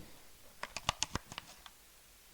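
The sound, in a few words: handling the keyboard buttons of a video game controller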